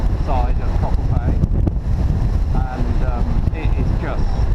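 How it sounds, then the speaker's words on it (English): Loud, constant wind buffeting the microphone with a heavy low rumble at Darling Harbour overlooking Cockle Bay, while a voice talks faintly underneath. "My goodness, it's windy today."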